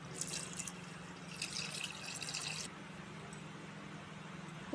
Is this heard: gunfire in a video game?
no